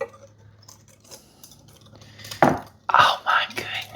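A spoon clinks and scrapes against a bowl while custard of eggs and cream is stirred, with a few soft taps followed by a louder run of quick clinking strokes.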